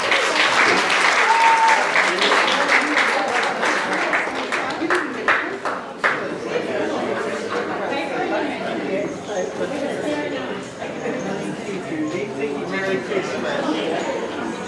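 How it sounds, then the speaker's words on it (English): Full audience applause at a ballroom dance award presentation after a waltz performance, a dense, continuous clapping wash that stays loud for the whole stretch with chatter underneath. "Round of applause, please"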